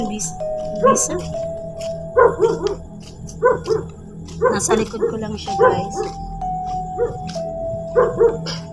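A dog barks repeatedly in short bursts nearby, while a person talks quietly over the barking.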